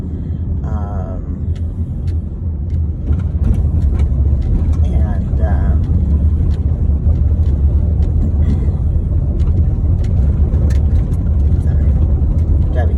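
A car drives along a dirt road, a steady loud low rumble of engine and tires with bumps and rattles throughout, while a person talks over it.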